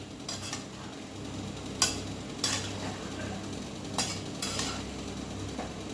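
Jackfruit vegetable curry being stirred and turned in a pan, with a steady soft sizzle and a few sharp scrapes and clinks of a utensil against the metal spread across the stretch.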